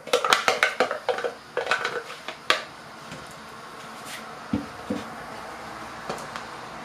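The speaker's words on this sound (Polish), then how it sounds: "Porządnie mieszamy." A utensil stirs bean pulp and tomato purée in a pot, clinking and scraping in a quick cluster of knocks for the first few seconds, then fading to a few sparse, softer taps.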